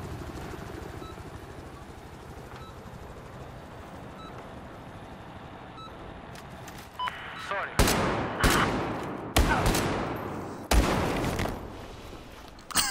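Gunfire in the Battlefield video game, several sharp loud shots in separate bursts over the second half after a quieter stretch of low background rumble.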